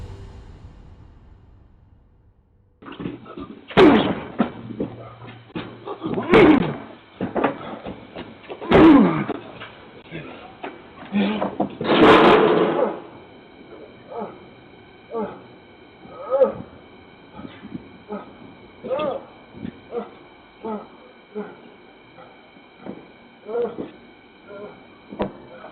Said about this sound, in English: the loud banging noises caused by the man slamming into the door